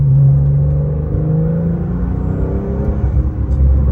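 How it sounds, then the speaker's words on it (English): A 2018 Porsche Carrera T's exhaust rumbles loudly as the car accelerates, a deep throaty drone with gear-like pitch steps and steady road noise beneath. "the exhaust isn't really droney or anything like that either"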